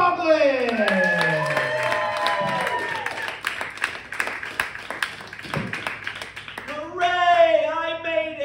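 An audience at a comedy show applauds and cheers for a comedian, loud clapping under a host speaking, fading out as the comedian begins talking.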